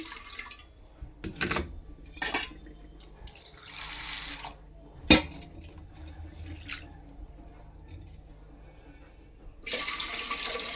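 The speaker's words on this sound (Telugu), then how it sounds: "ఇవైతే శుభ్రంగా అయితే కడిగి పెట్టుకుంటాను" Chana dal is washed in water in a kitchen, with short bursts of splashing and sloshing, faint drips and a few sharper knocks against the vessel, close and quiet between gaps.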